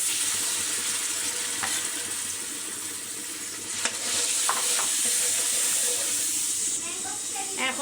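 A paste of chili, onion and cumin fries in hot oil with a constant, dense sizzle. Occasional clicks and scrapes of stirring rise over the steady hiss.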